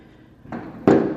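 Fireworks burst in an apartment complex on the 4th of July: a soft pop followed by a loud, close crack with a crackling decay, heard alone.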